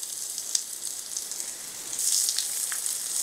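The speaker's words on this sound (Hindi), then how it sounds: "प्याज को भी हमें बहुत ही अच्छे से भुनना है" Chopped onions fry in oil with nigella seeds, giving a bright continuous sizzle with scattered spitting pops that swell louder near the end, heard alone without talk.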